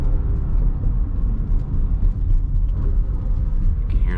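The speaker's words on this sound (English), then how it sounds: "Let's go ahead and give this some gas." A 2024 Porsche Cayenne S with a V8 and 8-speed automatic gets throttle from inside the cabin, giving a steady low rumble and whir that swells slightly.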